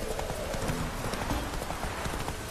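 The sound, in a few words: horse galloping hooves in The Witcher 3 video game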